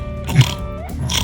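A person mimics a pig, giving a short nasal oink and a grunting snort, close and fairly loud, with no real animal present.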